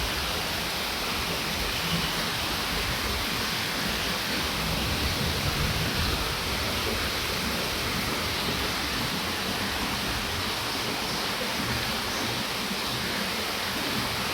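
Heavy rain pours down on a farm during a Baishakhi storm, a dense, constant roar of water that fills the scene without letup, with no voices.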